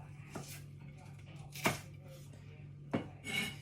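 A knife slicing spring onions lengthways into matchsticks on a chopping board, three distinct sharp cuts spaced about a second apart, close and fairly quiet, with a low steady hum beneath.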